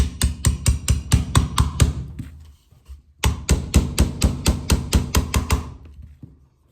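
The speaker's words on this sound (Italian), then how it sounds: "Lo faremo sempre utilizzando, dopo averlo posizionato correttamente, un martello di plastica" A plastic hammer taps a trigger pin into place in a rifle electronic trigger system, a rapid series of sharp, close knocks in two bursts of about a dozen strikes each, separated by a short pause, then fading out.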